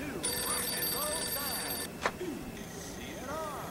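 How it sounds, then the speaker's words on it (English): Telephone bell ringing in the Mafia II video game, a bright repeated ring sounding for about two seconds, followed by a sharp click as the receiver is picked up, with faint background tones. "the phone's ringing"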